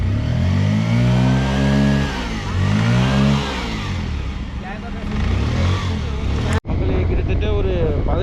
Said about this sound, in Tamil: ஒரு 15 நிமிஷத்துக்கு அப்புறம் ஸ்டார்ட் பண்ணி வண்டி ஸ்டார்ட் ஆகிடுச்சு.